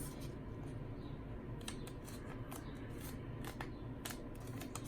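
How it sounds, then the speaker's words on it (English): Sheet of paper folded in half side to side for an origami frog, with crisp crinkling and sharp creasing rustles at close range over a steady low background hum, no talking. "Now what you want to do is fold it side to side in half"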